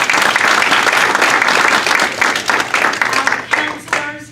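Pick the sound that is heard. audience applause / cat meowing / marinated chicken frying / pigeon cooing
audience applause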